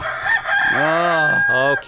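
A rooster crows loudly nearby in two drawn-out, wavering bursts over a steady high hum and background noise.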